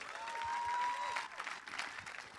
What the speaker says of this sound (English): Big round of applause for that, folks.